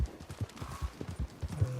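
A horse's hooves clip-clop in the Red Dead video game, a steady rhythmic trot of muffled thuds that is close and continuous, heard alone without talk.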